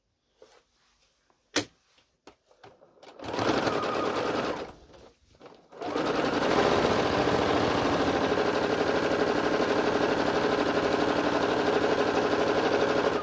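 A sewing machine stitching fabric for a lunch bag, first a few short clicks and brief bursts, then a long steady, fast-running mechanical whir close up and loud, with no talking.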